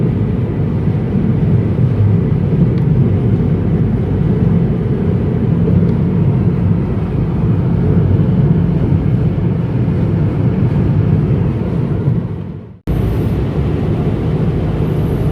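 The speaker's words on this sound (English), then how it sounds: "I'm driving on a local highway, 65-mile-an-hour speed limit in Mississippi" A car cruises on a 65-mile-an-hour local highway in Mississippi, giving a steady low road rumble and tyre roar that drops out abruptly near the end before resuming.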